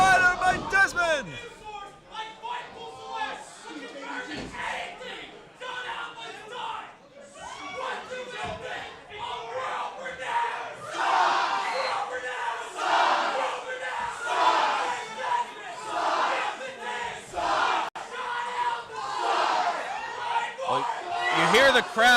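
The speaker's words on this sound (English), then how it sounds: "You hear the crowd getting all over World Renowned." An arena crowd in a wrestling video game roars and jeers in loud, swelling waves across a long stretch, with commentators talking over it.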